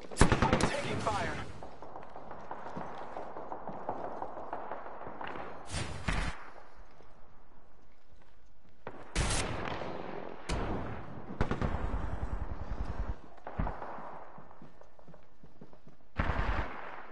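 Video game gunfire in short, loud bursts scattered throughout, sharp rapid shots over a constant low background, with players talking between the volleys.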